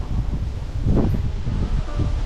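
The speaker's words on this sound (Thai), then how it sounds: "แต่ลมแรงมากครับด้านบน" Strong wind buffets the microphone at the summit of Khao Phraya Doen Thong, a Thai mountain, as a continuous low roar that rises in gusts and never drops to silence.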